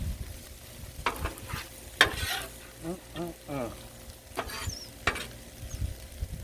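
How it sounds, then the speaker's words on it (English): Jambalaya is stirred on a Blackstone griddle, with repeated metal spatula scrapes and clinks over a soft sizzle in a quiet outdoor cooking setting. "we can stir this while we're waiting"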